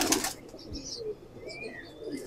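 Pet pigeons on a rooftop loft give soft, low cooing, with faint chirps and wing rustles mixed in and light outdoor background noise.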